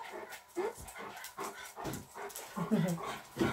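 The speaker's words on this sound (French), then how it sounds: "Mes petits chiens!" Small dogs whimper, yip and pant close by in short, uneven bursts of varying loudness.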